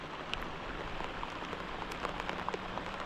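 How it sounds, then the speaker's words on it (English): Steady rain falls outdoors in the woods near a hunting tree stand, a soft constant patter with scattered sharper drops landing close by throughout. "I've been out here for about an hour just sitting in the rain."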